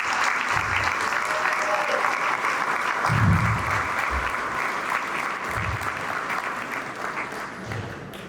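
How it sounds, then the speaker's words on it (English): A room applauds the board of directors at the Arroz Y Frijoles 2024 event for Casa de Peregrinos: a sustained, even round of clapping for about eight seconds, with a few low voices and thumps mixed in. "We could give them a round of applause"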